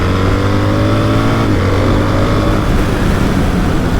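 A BMW R1300GS motorcycle engine runs close by with a steady, dense drone and a low, even hum, holding a constant level throughout with no voices over it.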